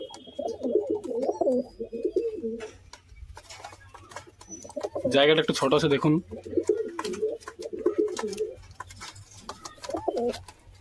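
A pair of red Pelong pigeons coo repeatedly in low, rolling bursts near a small loft, broken up by someone talking over them in the middle and near the end.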